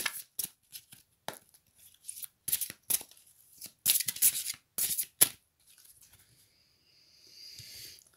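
Oracle cards are shuffled for a reading in a series of quick, crisp riffling bursts separated by short pauses, close and fairly soft, with no speech.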